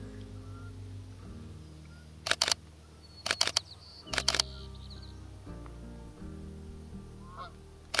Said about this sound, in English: Here comes some more Canadian geese.